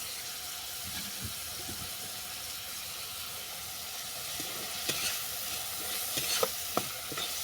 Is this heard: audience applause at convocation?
no